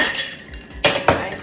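Glass clinking with ice as a banana raspberry smoothie is poured into it, a few sharp clinks standing out over soft background noise, close by.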